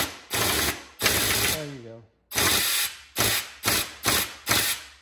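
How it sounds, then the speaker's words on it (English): A small air impact wrench fires in loud rattling bursts, a long run, a gap with a brief low stalling groan, then four short hammering bursts close to the mic, with a voice speaking briefly. "the little impact wrench oftentimes will stall."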